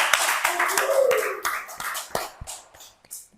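An audience gives a short round of clapping to welcome a guest to a talk show, sharp claps near at hand that thin out and fade to a few scattered last ones.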